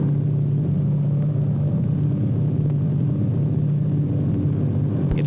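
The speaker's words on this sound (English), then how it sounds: "He can look down and see the tall buildings of the big city as his plane flies over it." An airplane flying over a big city shortly before landing at the airport gives a steady, droning engine rumble with a constant low hum, loud and continuous.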